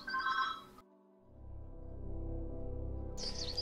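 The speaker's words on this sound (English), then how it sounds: "where were we before the phone rang?" A telephone rings in a Minecraft game, with a short bright ringing burst at the start, a low droning tone in the middle and another ring at the end.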